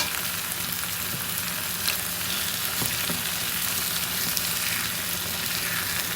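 Ginger garlic paste fries in a hot pan with a steady, dense sizzle and hiss, close and continuous, with a few faint stirring clicks and no voices.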